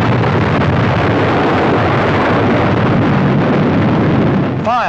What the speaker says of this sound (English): Fire followed the explosion.